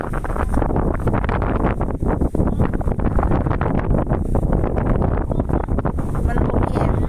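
Strong wind gusts across a freshwater lake, buffeting the microphone with a loud, continuous broadband roar that rises and falls in gusts for the whole stretch, no other clear sounds standing out.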